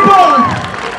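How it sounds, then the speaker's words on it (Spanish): A concert crowd at a festival cheers and claps for about a second, a loud burst of shouting voices that fades slightly toward the end. "¡Den un aplauso fuerte, Nico!"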